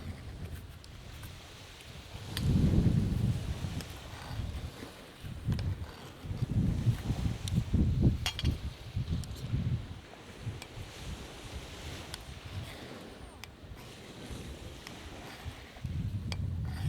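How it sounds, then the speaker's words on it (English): Gusty outdoor wind buffets the microphone in low, rumbling bursts while someone prepares a fire for a Kelly Kettle. The gusts swell and fade irregularly over a quiet background, with no speech. "It is quite windy here"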